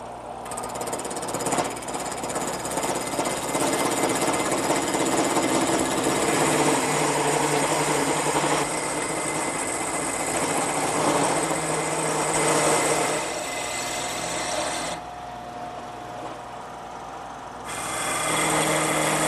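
A copy router with a nylon follower traces a template while its cutter shapes wood stock, a continuous high whining buzz with short dips in pitch and level as the cut progresses, loud and close with no voices.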